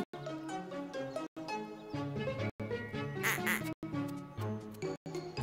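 A duck quacks repeatedly in a rapid, nasal series, close and clear, with short silent gaps between bursts of quacking.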